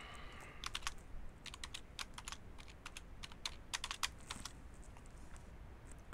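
Computer keyboard typing a password comes as quick bursts of light, close key clicks in irregular clusters over a faint background hiss, with no talking.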